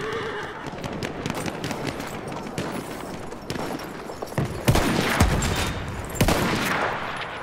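Horse neighing in the Battlefield 1 video game, amid clip-clopping hooves and bursts of gunfire and explosions in a loud battlefield mix.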